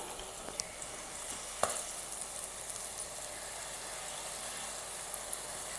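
Mini jangiri batter fries in hot oil in a kadai over medium heat, a soft, even sizzling hiss with a few faint clicks early on and no voices.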